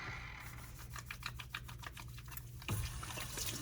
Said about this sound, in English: Next, wash your hands for 20 seconds with soap and water.